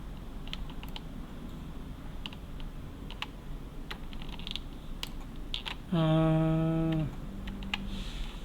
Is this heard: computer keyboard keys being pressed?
yes